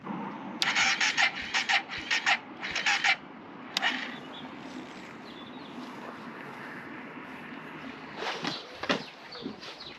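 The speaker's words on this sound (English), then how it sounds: "So I'm not even confident that we're going to get it started once this is off." A motorcycle engine being cranked on a low battery outdoors: several short, strained starter bursts, one after another, followed by a long stretch of steady engine-like noise and then a few more cranking attempts.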